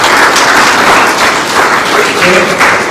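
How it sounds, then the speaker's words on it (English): A conference audience claps for two speakers, with dense, steady applause filling all three seconds at close range. "Can we clap for them one more time?"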